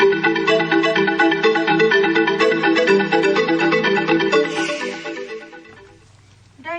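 A phone ringtone plays loudly and up close as a call is placed to Amay, a repeating melodic tone pattern that fades out before a short low hum at the end.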